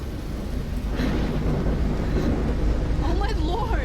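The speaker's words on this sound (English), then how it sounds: "The tornado is back!" A tornado storm in the video game Life Is Strange gives a loud, continuous roar of wind and deep rumbling. A voice rises over it near the end.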